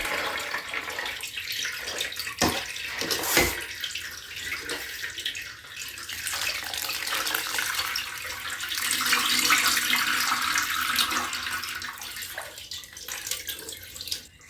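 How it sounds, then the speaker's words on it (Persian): Water drains from soaked wheat sprouts through a colander, a steady splashing and trickling stream that swells and fades over several seconds, with brief clatters. There is no talk. "آب جوانه های خیس خورده رو از آبکش رد میکنم."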